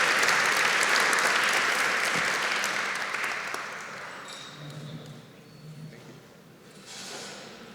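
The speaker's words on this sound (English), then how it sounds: "Give him another round of applause as he takes his picture." Audience applause at a Black History Month ceremony starts loud and thick, then thins and fades over several seconds into scattered claps and soft murmuring from the room.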